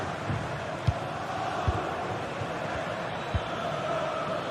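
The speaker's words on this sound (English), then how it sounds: "And you have to say the crowd have been brilliant." A stadium crowd in a football video game match gives a steady, distant-sounding roar and murmur throughout, broken by a few soft low thuds.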